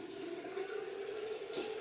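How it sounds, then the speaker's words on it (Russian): Water runs from an opened tap over a sink as a toothbrush is rinsed: a faint, steady rushing stream that barely changes. "Мы открываем кран с водой."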